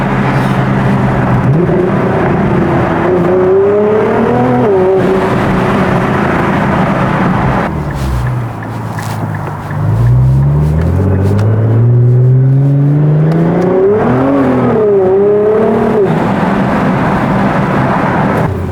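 A Nissan GT-R R35 idles loudly near by on its first start of the year, then its engine climbs through several revs that rise and fall in pitch, with a deep throaty rumble throughout.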